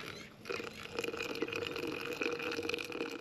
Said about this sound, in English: and then pour a cup of coffee